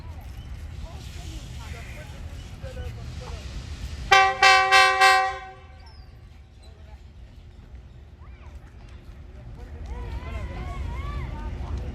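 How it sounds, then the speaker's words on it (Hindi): The Awami Express passenger train sounds its horn at Golra railway junction, a loud multi-tone blast of about one second with several short pulses, amid station ambience and people talking before and after. "अवाम की अवामी एक्सप्रेस है जी, सबसे पुरानी ट्रेन।"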